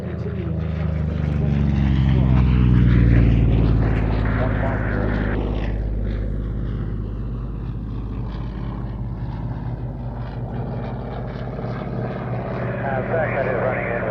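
A Corsair propeller fighter departing at the Fly Navy airshow at Shuttleworth, heard as a loud, droning engine roar that swells and then slowly fades as it moves away, with a commentator talking over it.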